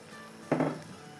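Water is poured into masala frying in a pan for a chicken handi, making a single quiet splash and sizzle that lasts about a quarter of a second.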